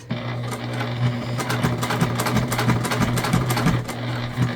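A sewing machine topstitches a tote bag with matching thread, its needle chattering steadily and fairly loud over a constant motor hum, with small bumps in the rhythm.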